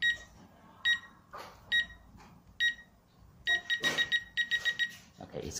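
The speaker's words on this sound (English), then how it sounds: "press and hold the button for until you hear 5 beeps" An RF strobe siren alarm sounds a series of short, sharp electronic beeps while its stored RF codes are cleared, in irregular bursts that cluster quickly near the end.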